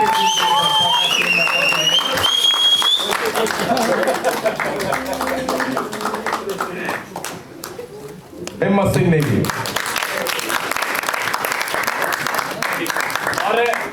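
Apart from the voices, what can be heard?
audience applause at a college drama festival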